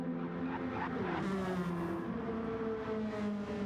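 Race car engines in Gran Turismo 7 during a league championship race, a continuous close engine drone with shifting pitch as the car revs and rotates through a corner, steady and moderately loud.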